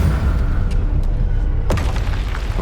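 In Hogwarts Legacy, a Bombarda blasting spell lands as a deep rumbling boom, with a sharp crack partway through over a constant low roar of combat.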